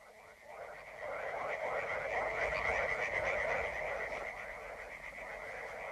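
Frogs croak in backwaters as a dense, continuous chorus that sounds fairly near and steady throughout, with faint radio-play voice or ambience underneath.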